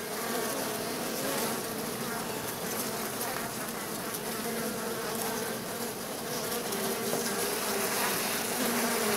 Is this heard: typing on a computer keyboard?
no